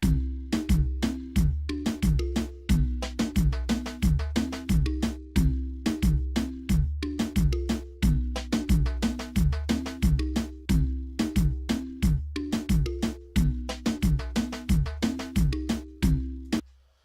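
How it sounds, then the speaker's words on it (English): Old school reggaeton drum beat with a steady dembow kick-and-snare pattern looping alongside a synth melody, loud and continuous with no voices. "So that's like the old school kind of rhythms, you know, the older kind of reggaeton drums."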